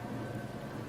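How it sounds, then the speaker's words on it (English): Steady rain falls outdoors, a soft, even hiss holding level for the whole second with no voices over it. "because it's still raining on us"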